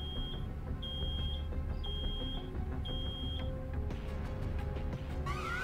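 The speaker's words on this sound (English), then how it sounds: "Oh no! Something's beeping!" An alarm beeps in the Road 96 video game, a series of short, evenly spaced high beeps over a rumbling game soundtrack, followed by a rising electronic tone at the end.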